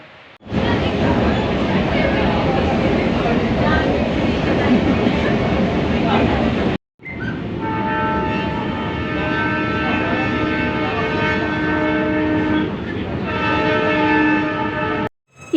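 A metro train rolls past close by with a loud, steady rumble. Sustained horn tones sound through the second half, after a brief drop in the noise.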